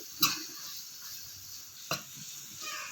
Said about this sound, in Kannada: ನೋಡಿ, ಈ ಥರ ಚೆನ್ನಾಗಿ ಫ್ರೈ ಆಗಬೇಕಪ್ಪ.